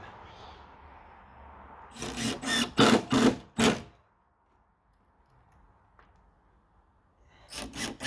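Screws are driven into the timber of a gate hung between brick walls, with a hinge plate attached: a few seconds of closely spaced, loud whirring bursts, then quiet, then another burst starting at the end.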